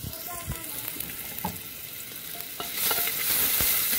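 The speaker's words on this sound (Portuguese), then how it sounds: "O alho fica bem douradinho" Garlic frying golden in oil alongside beef ribs, a continuous close crackling sizzle with occasional utensil taps and stirring scrapes, growing a bit louder and brighter toward the end, with no talking.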